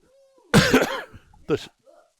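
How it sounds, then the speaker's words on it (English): A short, forceful blast of nose blowing followed by a second briefer honk, close and loud, with a faint breath afterward. "I got to blow my nose."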